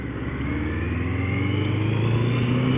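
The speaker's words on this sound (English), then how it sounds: "on this bike, my bike, the 1200cc 4-cylinder carburetted bike" A 1200cc four-cylinder carburetted motorcycle engine drones at a steady, even pace, a continuous close rumble with no voices over it.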